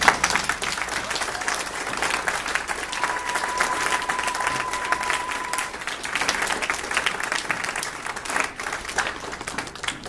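A church congregation applauding, with sustained dense clapping from many hands that fills the whole span at a steady loud level.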